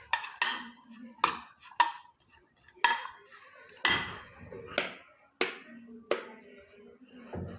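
A spoon clinks sharply against a bowl while spices and salt are mixed, about a dozen distinct metallic strikes in an uneven rhythm, each ringing briefly before fading.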